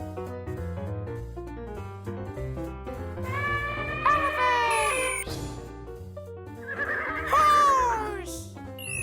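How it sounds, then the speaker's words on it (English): A cartoon-style horse neighs over bouncy children's music, two rising-and-falling whinnies a few seconds apart, loud and close, in a toddler animal-sounds show. "Horse!"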